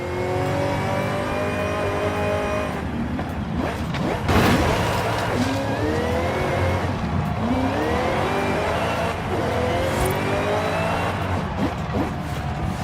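Swapped-in car engine in Forza Horizon 5 revving hard and steadily, with rising and falling pitch sweeps as the car accelerates and shifts, loud and close throughout with no talk.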